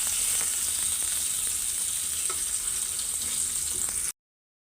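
Fried chicken pieces sizzle in oil and cooked spice masala in a pan, giving a steady, close frying hiss that stops abruptly after about four seconds.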